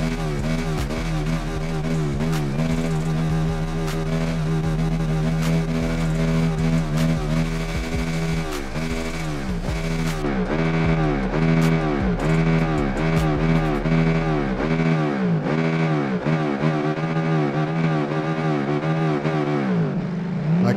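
A KTM 1290 motorcycle engine in the racing game Ride 3 revs hard and loud, climbing repeatedly to high RPM with rising and falling whines as it shifts through the gears.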